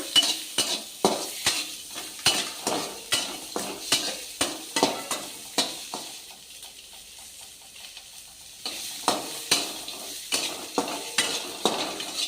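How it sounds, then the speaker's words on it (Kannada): Onions frying in oil for tomato chutney, stirred with a spoon in a pan, giving a steady rhythm of sharp scraping clacks over a soft sizzle, briefly pausing midway before the stirring resumes. "ಇವಾಗ ಈರುಳ್ಳಿನೂ ಎಣ್ಣೆ ಹಾಕಿ ಹುರ್ಕೋಣ."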